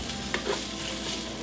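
Shallots sizzle in butter with rosemary and thyme, a close, steady frying hiss with a couple of soft stirring scrapes.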